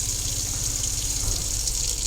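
Water rushes steadily from a tap in a Sprite Quattro EW caravan as it is drawn through the water system, a continuous gushing hiss with no pauses.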